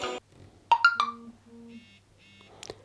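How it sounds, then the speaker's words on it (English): A mobile phone notification chime, passed through to a Mobvoi TicWatch C2 smartwatch, plays as a short sequence of clear electronic tones and beeps, fairly quiet and close, with a brief click at the end and no talking. "as soon as you get any notification on your mobile phone, you just heard it. I just got a notification"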